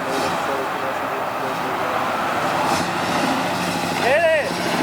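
Truck engine rumbling steadily as it moves off at a car cruise show, with a continuous low drone and murmuring voices, then a brief rising whine near the end.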